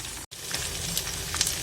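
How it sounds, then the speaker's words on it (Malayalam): Kerala style chicken frying in hot oil in a pan gives a steady, soft sizzle, with a very brief break near the start and a few faint crackles. "നല്ല അടിപൊളി ഫ്രൈ ആയിക്കൊണ്ടിരിക്കുകയാണ് ചിക്കൻ."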